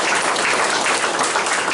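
A school audience gives a short, steady burst of applause, dense and fairly loud clapping from many hands with no talking over it.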